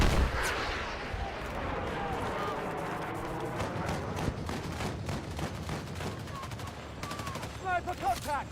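Sniper and other gunfire in the video game Battlefield 6 rings out as repeated sharp shots and distant booms over a busy battlefield, with a voice talking over parts of it.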